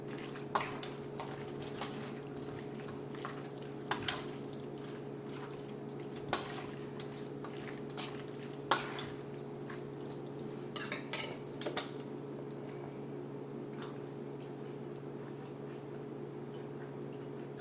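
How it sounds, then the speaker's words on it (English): Turkey salad being stirred in a bowl, heard as irregular clinks and scrapes of a utensil against the dish over a steady low hum, with no talking. "Stir it up a little bit."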